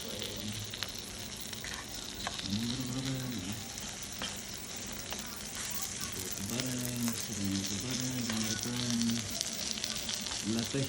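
Spinach frying in a pan at high heat gives a steady broadband sizzle, with stirring scrapes throughout and a voice talking over it in stretches.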